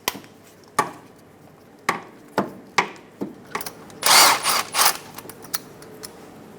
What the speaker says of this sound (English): We're going to be using a 14mm. We're going to remove the 2 bolts.